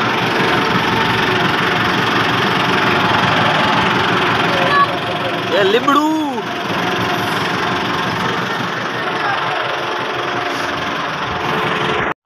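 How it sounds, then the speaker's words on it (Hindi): A tractor engine rumbles past in a loud, continuous knocking drone that persists throughout, while someone talks over it. "ये ट्रैक्टर जा रहा है"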